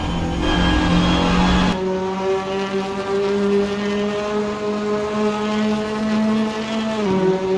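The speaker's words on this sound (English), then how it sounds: "This car is so loud." A loud, droning Hyundai Elantra touring race car engine heard on board at Thruxton Circuit, holding a steady high rev with a brief gear change and a small pitch dip near the end.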